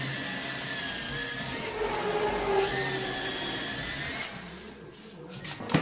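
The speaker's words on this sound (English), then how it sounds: "he'll just go ahead and drill all those holes" A power drill boring pilot holes in wood whines steadily, its pitch rising and dipping as it bores in short bursts, close and fairly loud.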